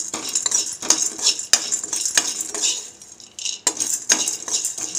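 A utensil stirs and scrapes flattened rice (poha) as it dry-roasts in a pan, giving close, repeated scraping and light rattling strokes in an irregular rhythm, with no talking.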